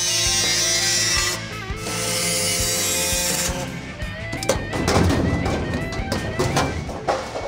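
Reciprocating body saw cutting car body sheet metal during a restomod wheel-well job, a steady harsh buzzing that shifts and breaks briefly before turning into rougher chattering cutting, loud and close.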